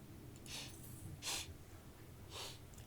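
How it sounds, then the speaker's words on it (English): Three quick, faint, breathy sniffles come about a second apart, close to the mic and on their own, with no talk. "Sorry about all the sniffling."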